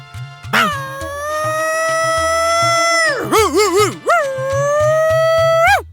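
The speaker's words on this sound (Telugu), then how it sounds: "కుక్క ఇందాక నుంచి మొరుగుతోంది" A dog howls in long, wavering notes with short sharp barks and yips breaking in, loud and close, over a low repeating background beat.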